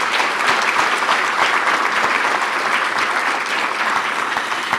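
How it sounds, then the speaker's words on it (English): Steady, dense applause from an audience at a women's awards breakfast event, loud and continuous throughout without a break. "Let's give them a big round of applause"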